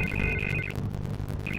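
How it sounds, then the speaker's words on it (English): Telephone ringing in Batman: The Telltale Series, an electronic ring in two bursts separated by a short pause, over a dense low musical backdrop with no voices. "I can't get the phone to stop ringing."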